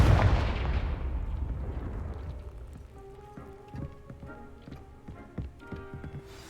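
Confringo spell blast in the Hogwarts video game, a loud opening boom that decays into a rumbling tail, followed by scattered crackling taps and debris-like clicks.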